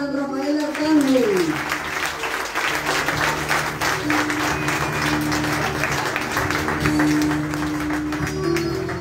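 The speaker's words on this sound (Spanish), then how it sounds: "¡Un aplauso a San Rafael Arcángel!" A church congregation applauds during a vigil and novena honouring San Rafael Arcángel, steady, fairly loud massed clapping that carries on throughout, with a voice and sustained tones underneath at the start.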